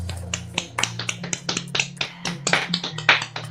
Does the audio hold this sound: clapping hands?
yes